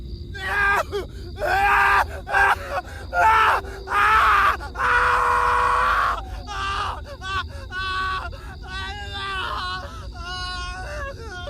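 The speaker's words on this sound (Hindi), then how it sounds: "जंगल के अंदर से दर्जनों लोगों की चीखें सुनाई देने लगीं" Several voices wail and scream in anguished, drawn-out bursts, rising and falling over a low rumbling background, loud and close.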